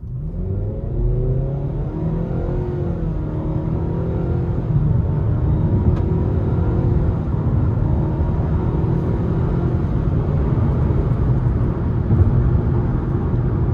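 Interior engine drone of a 2026 Nissan Sentra SL with a CVT pulling hard in sport mode, a steady low rumble and whir rising gradually and holding, with no talk.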